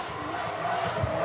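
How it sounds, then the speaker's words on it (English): Drift car engine at a Scandinavian Drift Series race track at Rudskogen, a brief rough revving drone with a rising whine, fairly loud and close, no speech. "I don't mind hearing car noises"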